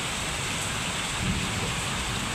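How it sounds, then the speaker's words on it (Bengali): Steady rain falls outside a home kitchen during a daytime downpour, a dense continuous hiss with low rumbling underneath, close and even throughout with no voices. "বৃষ্টি পড়তেছে"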